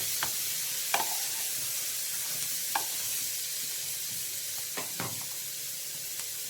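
Tomatoes being stirred in a hot frying pan, with a steady sizzle underneath and a few sharp scrapes and clacks of the spoon spaced through it. The stirring is fairly quiet and close, with no talking.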